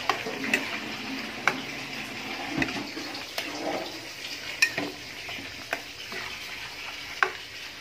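Menudo cooking in a pan as it is shaken, giving a steady sizzle and frying hiss with scattered sharp clicks and scrapes of the pan, fairly close and moderate in level, with no talking.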